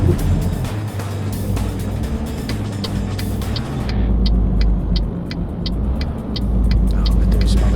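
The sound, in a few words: cars driving by, from video game Euro Truck Simulator 2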